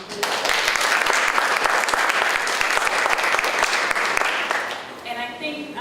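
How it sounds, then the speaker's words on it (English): An audience at a talk on a college partnership with Antigua claps in a dense, sustained burst of applause for about five seconds, fading out as a voice starts speaking at the end. "I wanted to give them a round of applause as well"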